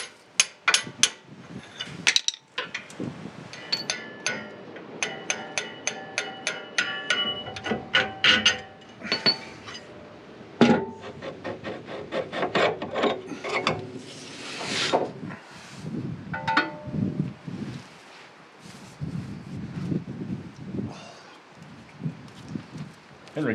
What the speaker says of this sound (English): we'll try and get all these bolts out, and that should release our radius arm